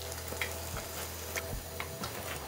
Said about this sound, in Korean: 다시 넣으면 더 바삭바삭하게 튀겨지거든요